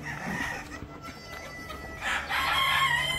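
Free-range chickens cluck and call inside a poultry shed, where birds roost on bamboo perches, with a louder crowing-like call rising near the end over steady barn background noise; no one speaks.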